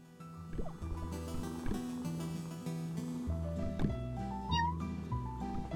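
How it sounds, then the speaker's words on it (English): Cat meowing save-point sound from the video game Ikenfell, a short mewing chime over a steady looping game soundtrack, with a bright rising tone near the end. "Let's go and pet the cat so we can heal."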